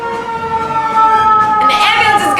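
A person vocally imitates an ambulance siren, a loud, close wailing tone with a rising and falling pitch sustained for a couple of seconds.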